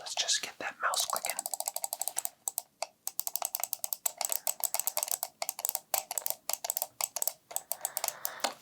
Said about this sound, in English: Let's just get that mouse clicking.